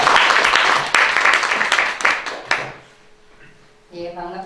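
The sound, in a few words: audience applause welcoming a lecturer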